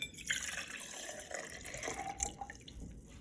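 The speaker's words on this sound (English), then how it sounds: "I'm pouring 200 milliliters of vinegar into the insulated cup." About 200 ml of vinegar poured into an insulated cup, a steady trickling splash with faint drips, close and fairly quiet, no talk.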